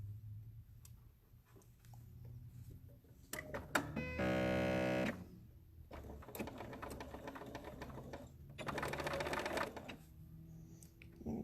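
A sewing machine stitches elastic into a face mask in two loud steady runs of rapid needle clatter, separated by quieter handling sounds and fabric rustle, close up with no speech.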